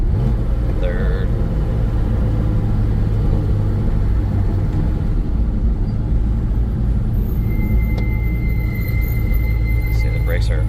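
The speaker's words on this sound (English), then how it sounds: "See, the brakes are pretty noisy." A high, thin brake squeal rises briefly over a constant loud engine and road rumble from inside a moving 1990 Porsche 911 Carrera on a bumpy road, with more faint whining tones later.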